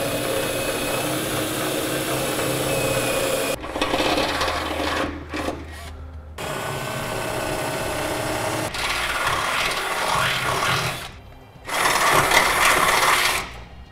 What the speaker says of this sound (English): We'll be using a 1/2 inch drill bit to drill these holes out.